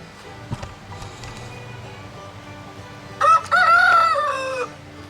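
Backyard chickens roosting in a coop in cold weather, with faint clucking, then a rooster crows loudly partway through, a long drawn-out call over steady background hum.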